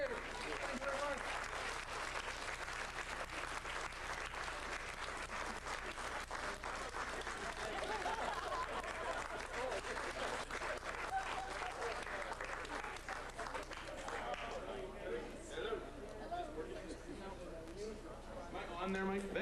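Sustained audience applause at a Valentine's Day magic brunch, with a dense wash of clapping from a room full of people, steady and loud throughout, with some chatter and cheering near the end.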